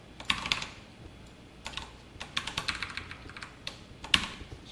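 Keys clatter on a computer keyboard in irregular bursts of close, crisp taps with short pauses between, while someone writes a search query for a Spring Boot Q&A service.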